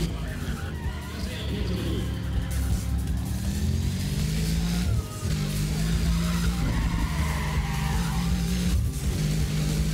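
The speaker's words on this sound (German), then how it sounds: "ich drifte erstmal durch die Kurve" A car drifting through a corner in Need for Speed ProStreet during a grip race, engine droning steadily with long tire squeals rising and falling over ten seconds, while someone talks over it.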